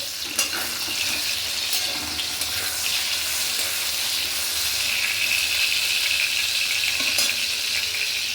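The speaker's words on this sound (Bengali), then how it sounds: "বেগুনগুলো সুন্দর করে ভাজা ভাজা হোক" Continuous hissing sizzle of eggplant frying in hot oil in a pan, steady and fairly loud, with a few light stirring scrapes and no talking.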